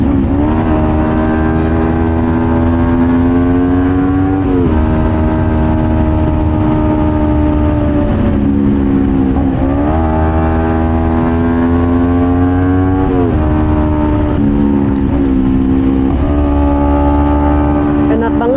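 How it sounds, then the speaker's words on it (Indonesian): A Kawasaki Ninja 250 FI fitted with a Prospeed Python exhaust revs loudly and close, its engine note rising and dropping in several repeated throttle blips over a steady idle. "Di sini saya coba tes knalpot Prospeed Python."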